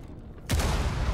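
A grenade goes off in the video game Rainbow Six Siege: after a quiet moment comes a single sudden, loud, booming blast that keeps rumbling to the end.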